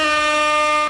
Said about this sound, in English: We used to do like an air horn going between all the games.